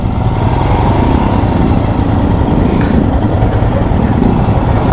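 A large group of adventure motorcycles riding out together at an ABR festival, a dense continuous engine roar that stays loud and close throughout without talk.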